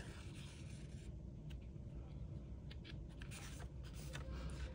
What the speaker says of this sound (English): Place your template and trace.